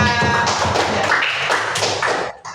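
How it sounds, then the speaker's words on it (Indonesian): Loud, close applause from a school class after singing the national anthem, a steady rapid patter of many clapping hands that tapers off at the end. "Tepuk tangan untuk semuanya"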